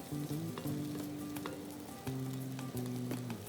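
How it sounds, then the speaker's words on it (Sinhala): Sliced moonflower beans frying in a pan with green chillies give a steady, close sizzle and crackle, with a few scraping stirs breaking through. "අපි කපාගත්තු ආලංග ටික එකතු කරගමු"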